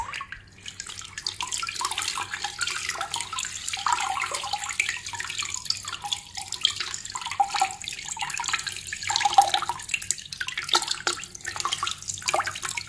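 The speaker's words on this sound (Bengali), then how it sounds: "একটু ইয়ে মারেন, পানি ঢালেন।" Water is poured over a rickshaw fog light, making a continuous splashing, trickling stream with irregular drips and spatters, close and moderately loud throughout with no one talking.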